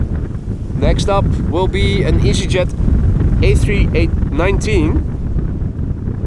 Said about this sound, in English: Hier ist es noch immer windig und nicht zu heiß.